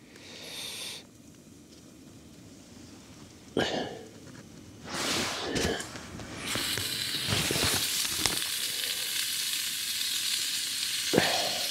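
Duck shallow-frying in a pan at a winter overnight camp gives a steady close sizzle and hiss, broken by a few louder clatters and bursts as the pan is handled.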